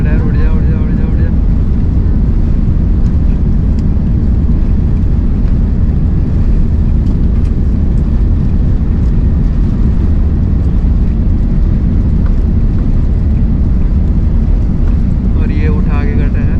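An airliner's engines roar steadily during the takeoff run and climb, heard from inside the cabin as a loud, constant low rumble with wind noise throughout.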